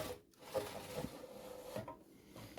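A wooden drawer of a bottom-mounted sawdust collector slides out and back in with a few soft scraping rubs, quiet and close.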